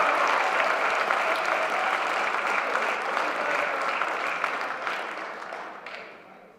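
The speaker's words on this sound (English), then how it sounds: "Let's give these guys a big round of applause." Sustained applause from a banquet audience honoring high school football players, a dense, loud wash of clapping that holds steady before tapering off toward the end.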